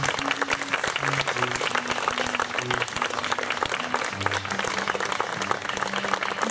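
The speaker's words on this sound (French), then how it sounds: "on peut les applaudir." Wedding guests applaud the couple at a ceremony in Rosemère, a steady dense burst of clapping that holds for several seconds, with faint murmurs and a few voices underneath.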